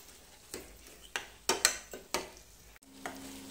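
Onion-garlic chutney sautéed in oil gives soft sizzling broken by several sharp scraping stirs of a spoon against the pan, close and fairly quiet.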